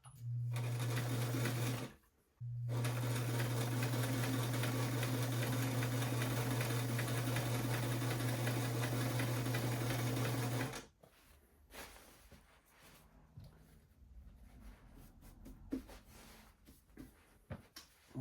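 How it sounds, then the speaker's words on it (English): An old home sewing machine stitches a quilt in a steady, loud mechanical hum with a fast stitch rhythm. It runs for about two seconds, pauses briefly, then runs for eight more before stopping. Quieter handling noises follow. "Grandma's sewing machine for the win"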